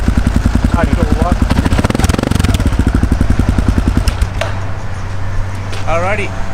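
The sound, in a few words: Kawasaki KLR 650 motorcycle engine with aftermarket exhaust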